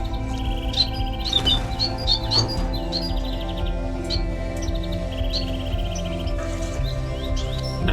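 Society finches and chestnut-breasted manikins in a home aviary chirping continuously, many small high tweets and calls overlapping at moderate loudness over a steady low hum, no talk.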